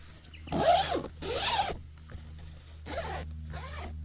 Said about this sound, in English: And we have a double zip here.